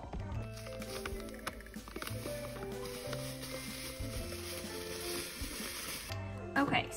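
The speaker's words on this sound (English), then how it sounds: "got my little spoon and I'm just mixing it" A spoon stirs banana bread batter in a bowl, making soft wet squishing and scraping sounds in a steady rhythm, close and fairly quiet, with a faint background hum.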